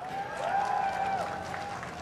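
Audience applause opening a special match at the 2018 Spider Ultimate Challenge obstacle competition, a steady wash of clapping and crowd noise with a sustained tone running through it.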